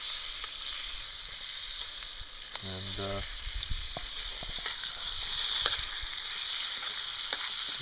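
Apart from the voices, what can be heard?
bacon sizzling in a pan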